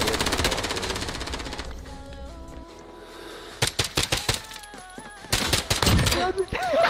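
Call of Duty gunfire, dense rapid automatic shots at the start, a lull, then several sharp bursts of shots later, loud and close, with a voice talking briefly amid the firing.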